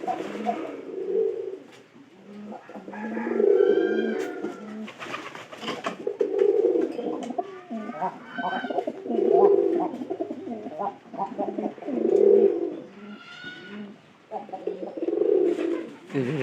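Close, loud, rolling coos from pigeons around a straw nesting area, repeating steadily every couple of seconds with faint higher chirps in between.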